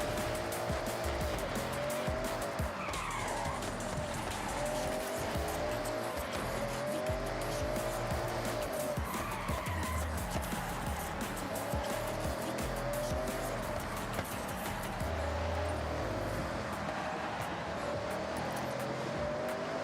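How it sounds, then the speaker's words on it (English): Race car in Forza Horizon 6 braking hard through a corner, tires squealing and skidding over a steady roaring engine, continuous and loud throughout with faint talk in the background. "Here we go through another relatively heavy braking section."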